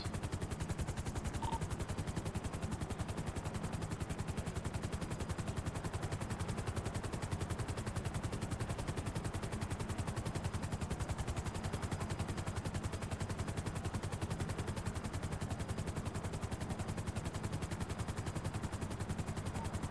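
Police helicopter rotor chop mixed with sustained rapid gunfire during a pursuit in a roleplay video game, loud and continuous throughout with dense rattling bursts and no speech over it.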